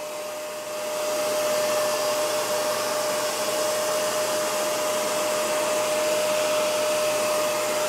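A Shark CarpetXpert StainStriker upright carpet cleaner runs in deep clean mode on carpet, a steady loud whirring motor hum with a faint tone that ramps up within the first second and holds constant, close by with no talk.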